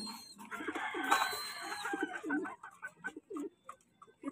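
Pet pigeons cooing in a cage kept alongside native chickens, a steady run of soft bird calls close by with a bright high chirp near the start, no talking.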